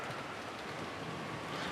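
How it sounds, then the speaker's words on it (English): Steady downpour of rain as a sound effect in the Umineko visual novel, a dense, continuous hiss that stays even throughout with no voices. "the sound of downpouring rain kept turning their attention towards the mystery guest"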